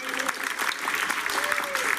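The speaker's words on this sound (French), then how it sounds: "Applaudissements pour l'accordéon, Jean-François Fauchard, mesdames, messieurs" An audience at a French television variety show applauds an accordionist, the clapping steady and fairly close, with a voice talking over it throughout.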